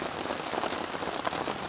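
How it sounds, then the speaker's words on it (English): Rain falls steadily outdoors through the night, a dense even patter of drops on surfaces with no voices. "it has rained pretty much all night long."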